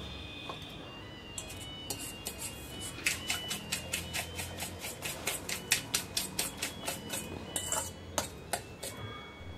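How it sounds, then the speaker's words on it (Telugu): A metal spoon stirs sugar into a sweet mixture for a bread pancake, striking the bowl in a fast, steady run of bright, close clinks that grow louder midway, with no voices. "స్వీట్కి సరిపోయినంత షుగర్ వేసుకొని షుగర్ కరిగే వరకు కలుపుకోవాలి"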